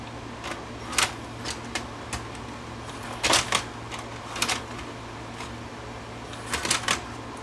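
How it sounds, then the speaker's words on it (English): A Panasonic PV-V4522 VCR struggles to load a Maxell T30 tape, producing scattered mechanical clicks and clatters over a steady low hum, with brief bursts of rapid ticking at irregular intervals; no one speaks. "But this tape just does not want to load."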